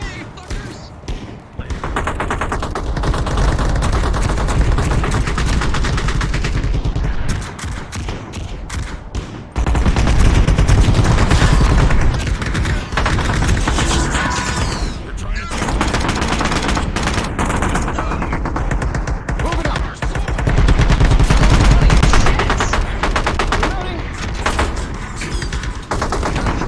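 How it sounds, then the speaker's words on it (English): Rapid bursts of gunfire with bullets ricocheting during a skirmish practice, loud and continuous for the whole stretch, with dense rattling volleys and thumps and short surges of heavier firing. "bullets are ricocheting all around your head"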